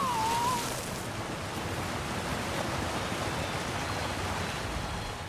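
Steady rushing water from a waterfall in the video game The Elder Scrolls Online, a broad continuous roar heard alone without talk, slightly louder at the very start.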